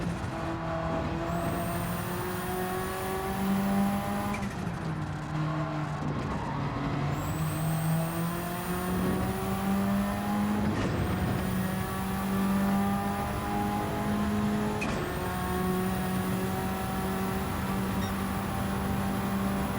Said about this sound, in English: the Subaru rally car was like super fast, but it had really short gear ratios